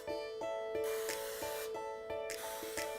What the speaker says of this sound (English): First thing you're going to do is spray your pan.